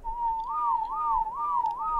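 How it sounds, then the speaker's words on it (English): A character in the video game Ark whistles a steady tone that warbles up and down in repeating swoops, clear and close with no talk over it. "Yet if I'm whistling"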